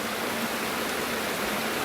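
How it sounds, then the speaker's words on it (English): Steady, even rush of the Camden Haven River flowing nearby, a continuous broadband wash of water with no breaks or voices. "welcome to the Camden Haven River"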